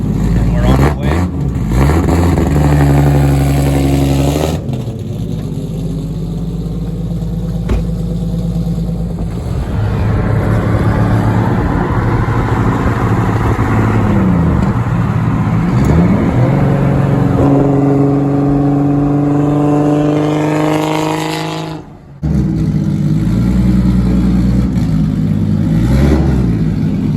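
Nissan 370Z fitted with a 1JZ-GTE engine pulling away, a loud close engine note rising and falling through throttle changes with brief dips, while a person talks over it.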